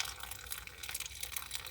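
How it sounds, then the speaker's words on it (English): Hot tea or coffee being poured from a dripping spout into a cup inside a camper van, a soft continuous trickle and splash with faint drips, close and quiet throughout. "let's see if I can pour this in without spilling it, because it does seem to drip"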